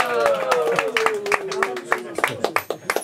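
Scattered hand claps from a small concert audience for a band, sparse and uneven, heard under someone speaking.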